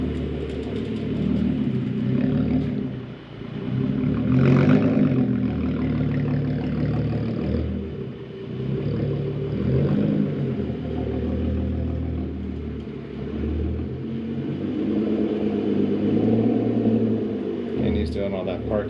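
A Hyundai Genesis Coupe with a widebody kit rumbles in from a distance, its engine a steady low drone that swells briefly as it nears, with people talking over it.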